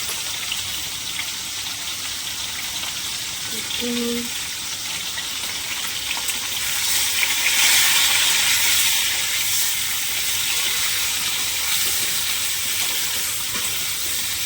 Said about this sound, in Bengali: পটলটা লাল লাল করে ভাজা হোক। এদিকে মাছ ভাজাটা হচ্ছে।